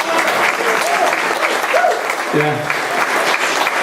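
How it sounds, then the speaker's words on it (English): Audience applause at a state park dedication, a steady burst of clapping from a crowd, fairly loud and continuous, with a voice calling out briefly over it. "don't delay and wait for that applause"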